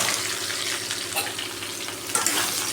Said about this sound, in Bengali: একটু আলুগুলো ভাজে নিলাম আগে, তারপরে ঝিঙেগুলো দিয়ে দেবো